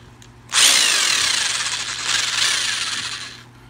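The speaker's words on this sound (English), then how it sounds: "I'm just going to go ahead and cut, drill out the rivets, and take these apart" A power drill bores out the rivets of a Hot Wheels toy car, a close, loud high-pitched whine that starts abruptly, runs steadily for about three seconds with a slight surge, then stops.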